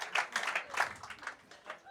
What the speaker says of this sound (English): Yeah, you clap that.